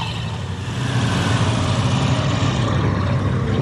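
A Moto Guzzi V85 TT motorcycle engine pulls away, a steady low throaty rumble that swells slightly after the first half second and holds on close and loud.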